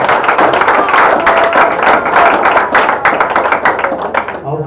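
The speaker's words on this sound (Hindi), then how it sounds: "एक बार आप तालियां बजाएं उन सबके लिए" Loud, close applause from the audience at a Hindi comic poetry gathering, many hands clapping densely and steadily before thinning out at the end, with a voice faintly audible under it.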